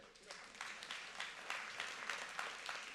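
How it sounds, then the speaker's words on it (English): Audience applause at the Global Disability Summit for President Moreno, a steady wash of many hands clapping at moderate distance, fairly quiet and continuous throughout. "Let's clap for him again."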